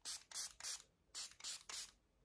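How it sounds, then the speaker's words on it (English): Setting spray is misted onto a face in six short hissing bursts, grouped in two sets of three, close and quiet with no talk. "Spray and set your face in that order."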